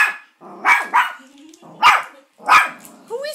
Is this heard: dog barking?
yes